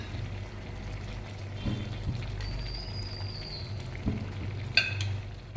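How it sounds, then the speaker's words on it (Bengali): Cornflour water is poured into chili chicken frying in a pan, a soft steady pour over a low sizzle with a few faint clinks, close by. "আর আগের থেকে করে রাখা যে কর্নফ্লাওয়ারের জলটা ওটা আমি 3 চামচ দিয়ে দেবো।"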